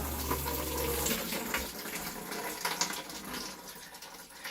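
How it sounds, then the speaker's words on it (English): Tap water pours from a faucet down into a 5-gallon bucket in a kitchen plumbing setup, making a steady broadband splash and gush that stays fairly loud throughout, with no talking. "So I can turn my faucet on, runs into there, and then it comes straight down into this bucket."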